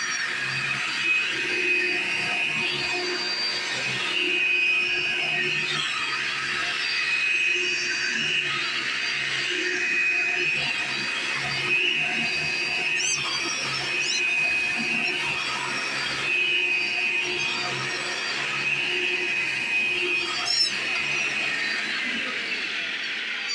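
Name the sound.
vacuum cleaner from 2000 running on carpet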